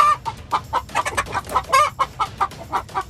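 Hens clucking over nesting boxes in a backyard flock, a loud, close run of rhythmic squawking clucks repeating about every quarter second with no talk.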